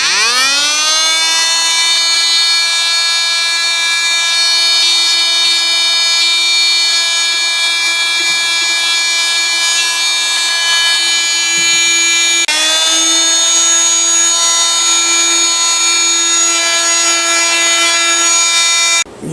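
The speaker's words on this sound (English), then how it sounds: "why did I take the finish, sand this piece down" Power sander running steadily on a red oak Kennedy rocking chair by Carolina Rocker, stripping the old finish with a high whining hum that stays loud and constant, with a brief shift midway and a stop at the end.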